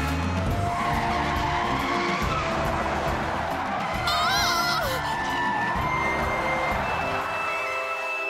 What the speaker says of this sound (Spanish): ¡Pisa el freno, Penny!